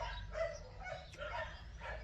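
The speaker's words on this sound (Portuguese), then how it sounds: "É só os cachorros dos vizinhos. Eles não param, gente." Neighbours' dogs bark in a steady chorus of repeated barks and yips, distant and faint, over low background rumble.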